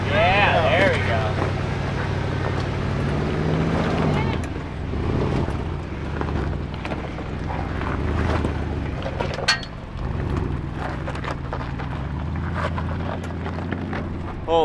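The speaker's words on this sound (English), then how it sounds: "because all that noise was the traction control" A Porsche's traction control grinding away as it climbs a steep rocky jeep trail at Poughkeepsie Gulch, Colorado, giving a continuous rough engine-and-driveline noise with wind buffeting the microphone, while people talk and cheer over it throughout.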